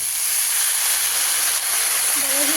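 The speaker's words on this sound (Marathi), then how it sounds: "आता आपण त्यात धुतलेली मेथीची भाजी टाकून घेऊया." Washed fenugreek leaves land in a hot pan with browned seasoning and sizzle loudly, a steady broad hiss filling the whole moment close up, with a brief faint voice-like tone near the end.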